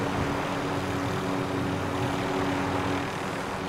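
Aircraft engine drone from a helicopter flying in an online shooter duos match, a steady loud rotor and engine hum holding throughout with no pauses and no voices.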